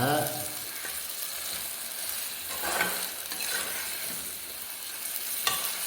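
Yogurt-marinated large meat pieces sautéing briefly in a pot for biryani, giving a soft sizzle with occasional stirring scrapes and a sharp clink near the end.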